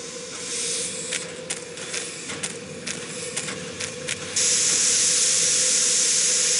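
Steam escaping from a leak on a snowbound train in the Murder on the Orient Express game, a constant hiss broken by short bursts, then swelling into a louder, steady rush near the end.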